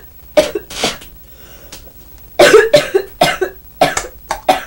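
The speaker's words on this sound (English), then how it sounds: "a special coughing technique helps to get rid of it" A series of forceful coughs to clear mucus, a pair near the start, then a quick run of harsh bursts in close succession, loud and close.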